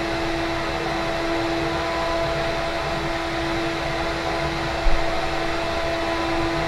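A CNC router runs continuously at a steady, loud level, a dense whirring roar with faint tonal whine and one brief bump near the end, with no voices.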